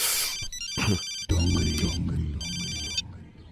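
A phone rings in a film scene, its electronic ringtone repeating in bursts over a low rumble of movement and background noise, with no voices.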